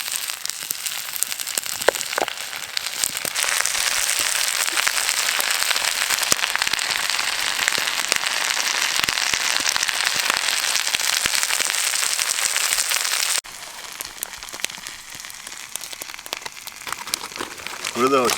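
Dense, steady crackling and hissing from a busy wood fire in a camp firebox, with potatoes and onions cooking on top at a campsite in Maine, continuous and close, with a brief drop in level near the end and voices talking underneath.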